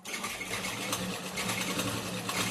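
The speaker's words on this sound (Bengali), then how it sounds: "সেলাইটা করে নেবো" Electric sewing machine stitching blouse fabric, a steady rapid mechanical whir with a fast needle rhythm, close and continuous for a couple of seconds with no talk.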